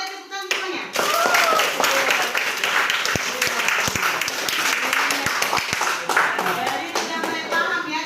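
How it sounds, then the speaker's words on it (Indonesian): Classroom of students at a science lesson bursting into loud, dense hand clapping after a brief pause, continuing steadily and close by for several seconds. "Oke, tepuk tangan semuanya."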